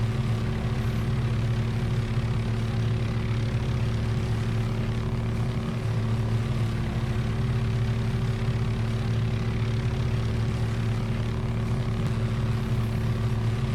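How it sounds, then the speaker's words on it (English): Steady, droning helicopter rotor and engine hum in Microsoft Flight Simulator 2024 in VR, a continuous loud whine with low throbbing that stays constant throughout with no speech. "God, I love this helicopter."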